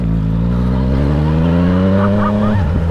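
A motorcycle engine holds a loud, steady rising drone close by for a few seconds, then the pitch drops off sharply at the end.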